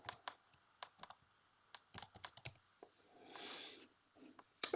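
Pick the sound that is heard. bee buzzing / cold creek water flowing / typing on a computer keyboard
typing on a computer keyboard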